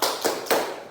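A class doing the rhythmic 'tepuk semangat' spirit clap in a classroom, with a few sharp, close claps in quick succession and no voices.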